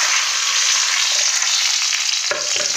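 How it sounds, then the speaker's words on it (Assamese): Onions sizzle steadily in hot oil with cinnamon, cardamom, cloves, dried chillies and bay leaf, a loud, close, continuous frying hiss that falters briefly near the end. "পিঁয়াজ দি দিছোঁ।"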